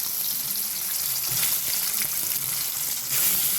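Fish frying in salted oil, a steady close crackling sizzle with a faint watery spatter, continuous and fairly loud throughout with no voices.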